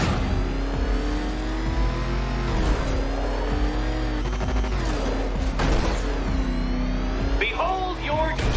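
The Batmobile in Batman Arkham Knight drives with a constant loud engine roar, revving and shifting as it speeds along, with occasional thuds and screeches; a voice speaks over it.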